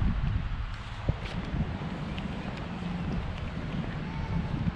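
Steady outdoor wind rushing and buffeting on a humid day at Dahu Park, with faint rustling, no voices.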